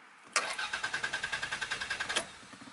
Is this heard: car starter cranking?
yes